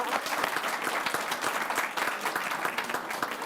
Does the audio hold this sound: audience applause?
yes